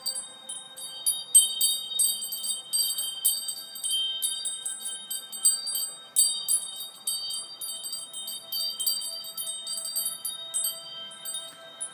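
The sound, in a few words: chimes from Scotland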